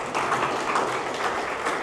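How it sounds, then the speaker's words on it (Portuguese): Congregation clapping together at a Portuguese-language church service, steady dense applause held at a moderate level for a brief stretch with no voice over it. "Aplauda o Senhor"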